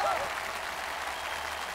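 Steady, dense applause from a studio audience cheering basketball player Milan during a basketball competition show, filling the whole stretch with a brief voice at the very start.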